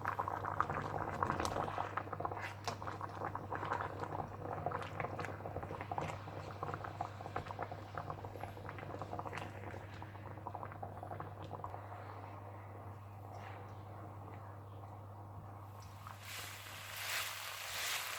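Chicken boils in water at a steady boil, continuous bubbling and sizzling with a dense crackling texture throughout and a constant low hum beneath.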